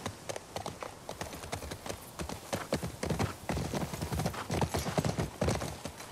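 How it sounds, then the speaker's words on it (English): Horse hooves clip-clop in The Last of Us Part II video game, a steady rhythmic stream of close, moderately loud footfalls with no talking over them. "thank goodness our horse came back"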